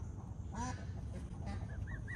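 Domestic geese in an enclosure give several short honks close by, one louder call early and a quicker run of honks near the end, over a low rumbling background.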